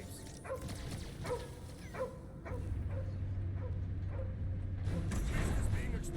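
A dog in the Guardians of the Galaxy video game gives a series of short, sharp barks and yips, then whimpers, over a droning low hum of game ambience.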